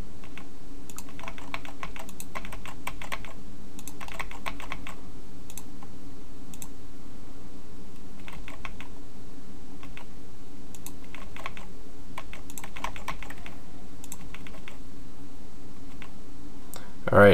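Computer keyboard typing while indenting code, with steady bursts of light key clicks and pauses between them that run throughout at close range, ending in a louder thump.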